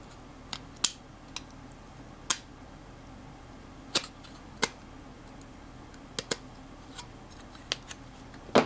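Enamel-coated radiating wire for an end-fed random wire antenna is trimmed with cutters: about a dozen sharp, close snips and clicks at irregular intervals in an otherwise quiet room.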